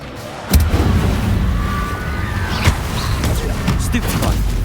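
Incendio fire spells are cast in the Hogwarts Legacy video game, with sharp bursts and rumbling fiery blasts over a constant loud game soundscape of impacts and whooshes.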